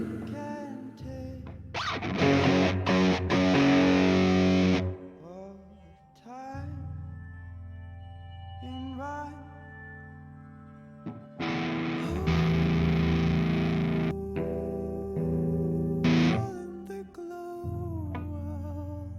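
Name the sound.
big reverb effect on a song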